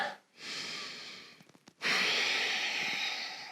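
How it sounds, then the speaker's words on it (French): Slow, deep breaths during a yoga session: a long, airy exhale, a short pause with soft catches, then another strong, close breath of air. "Prenez 2-3 respirations ici."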